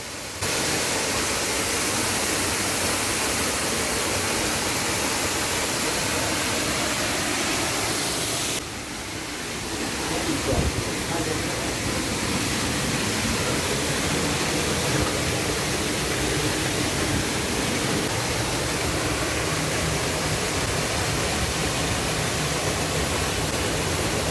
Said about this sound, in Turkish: Şu an tam şelalenin altındayım.